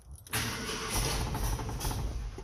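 An old Ford truck engine with a weak battery cranks briefly and catches, jumping into a loud, rough idle up close that carries on steadily, with no talking.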